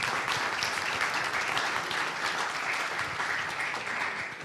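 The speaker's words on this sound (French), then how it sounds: "Des applaudissements bien mérités" A conference audience applauds steadily after an accountants' presentation, a dense, even wash of clapping from many hands that holds at full level throughout and eases slightly at the end.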